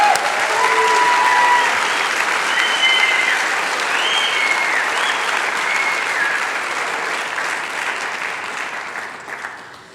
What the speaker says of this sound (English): Let's give another round of applause to all of the nursing graduates.